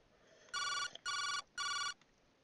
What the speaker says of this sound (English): After several rings, someone picked up.